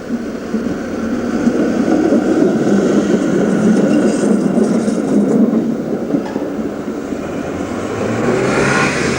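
A Brussels tram, route 39 in new livery, rolls past along its track with a steady, loud rumble that builds slightly toward the end, no voices over it.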